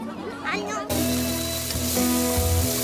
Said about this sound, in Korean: 지글지글 있는 소리에 군침이 도는 시간